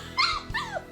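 Hovawart puppies whimpering and yipping in high, wavering cries, two longer whines followed by a short one, close and clear with no talking.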